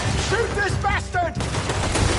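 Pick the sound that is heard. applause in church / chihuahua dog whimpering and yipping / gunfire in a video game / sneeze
gunfire in a video game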